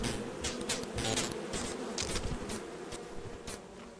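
Bees from a hive in the video game Lethal Company buzz continuously in bursts, a close, droning hum with several louder swells.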